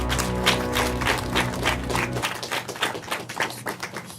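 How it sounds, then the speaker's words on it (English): Studio audience applauds a quiz show contestant after a wrong answer, a burst of clapping over steady music that drops away midway, leaving scattered, thinning claps to the end. "Give the boy a round of applause."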